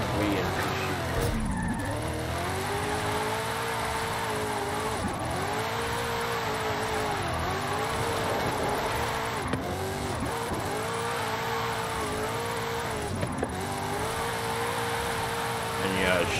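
A car sliding on the road in Forza Horizon 5, with a sustained engine drone that rises and falls repeatedly as the tires squeal and scrub through long slides, continuous and close.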